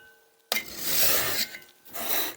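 Steel rasping with the Rockler sharpening tool against the edge of a cabinet scraper, two close, harsh strokes, a longer one and then a shorter one after a brief pause.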